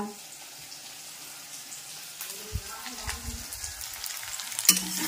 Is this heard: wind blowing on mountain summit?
no